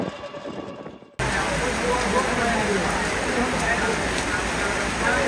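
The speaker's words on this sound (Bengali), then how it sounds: "মহিষলুটি যেতে না যেতেই বৃষ্টি নামলো, সেই শ্রাবণ মাসের ঝুম বৃষ্টি।" Heavy monsoon rain of the Shravan season pours down near Chalan Beel, a steady, dense roar of downpour that starts abruptly after a quiet moment and continues loud and unbroken.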